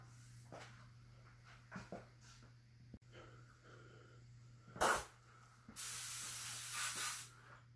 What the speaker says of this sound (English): now I have my airbrush loaded with some fluorescent violet